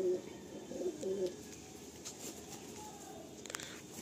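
Madrasi pigeons in a loft let out a few low, throaty coos close by at the start, then fade to faint rustling and scattered soft clicks.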